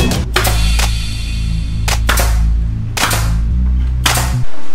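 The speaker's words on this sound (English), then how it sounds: "18 gauge brad nailer." An 18 gauge brad nailer firing nails into a bookshelf, four sharp loud pneumatic shots spaced about a second apart over a steady low compressor drone.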